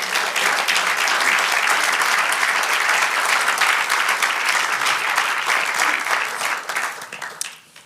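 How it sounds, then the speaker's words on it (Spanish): A church congregation claps loudly in a sustained burst of applause that holds steady for several seconds before tapering off and dying away. "Dale un aplauso al Señor."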